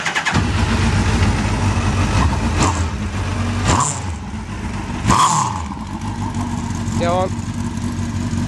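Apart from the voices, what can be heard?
Mini with Hayabusa engine starting and idling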